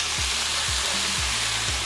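Green onions and tomatillos sizzle steadily in a single pan for green shakshuka, a loud, even hiss of frying under a low rhythmic thumping in the background, with no one talking.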